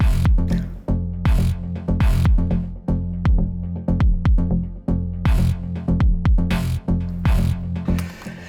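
A heavy electronic groove of deep synth bass locked with a punchy kick drum, bright stab synth chords hitting in repeated rhythmic bursts over it, loud and dense with a steady pumping pulse.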